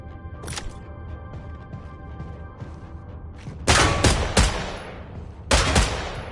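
Gunfire rings out at a target range in the video game Killing Floor. A single sharp shot comes first, followed by several loud, rapid volleys in the second half.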